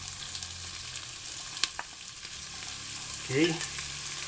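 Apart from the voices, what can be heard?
onion and garlic frying in pork lard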